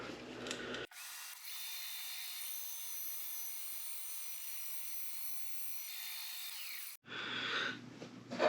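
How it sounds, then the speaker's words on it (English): A hand saw cuts a clamped piece of ancient Irish bog oak in half, a steady, close rasping that runs unbroken for about six seconds, with brief handling noise before and after. "So I've got that piece of bog oak clamped up, and my saw set. So let's go ahead and cut him in half."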